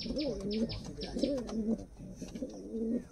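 Giribaz pigeons in a village loft coo in three rolling bursts, close and fairly soft, with sharp clicks and light rustling around them.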